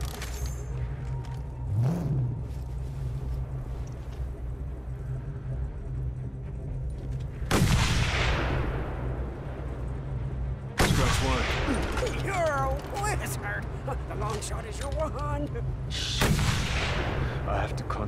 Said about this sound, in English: I can take them out with the sniper rifle